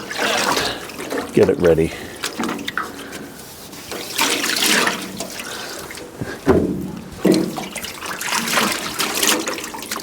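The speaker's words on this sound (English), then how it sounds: "even though we rinse it out really well, the previous year it gets a little dusty, so I just rinse it off" Water splashing and trickling as maple syrup equipment is rinsed off before the season, close and uneven pours and dribbles with brief gaps, heard under steady talking.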